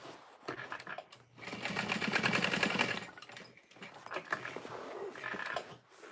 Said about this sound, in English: I'm gonna do a box stitch here